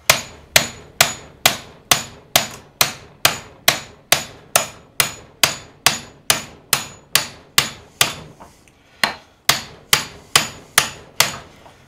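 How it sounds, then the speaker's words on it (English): Steady, forceful hammer blows strike metal on a John Deere STX38 lawn tractor in a regular rhythm, close and loud, with a brief pause before the pounding resumes. "A heavier hammer would help"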